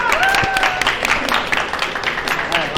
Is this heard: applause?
yes